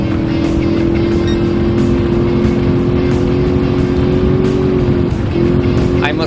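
Race car engines in Gran Turismo 7 on a PS5 Pro drone loud and steady throughout, a sustained high engine tone with constant roar and no pauses.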